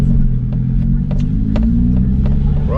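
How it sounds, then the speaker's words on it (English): Audi S3 in sports mode rumbling from inside the cabin, a steady loud low engine drone with faint ticking clicks over it and a brief rising whine at the end. "Right, so we're in the S3 now, and we've got her in sports mode."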